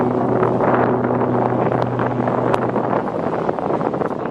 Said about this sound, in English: Wind is swirling all over the joint here.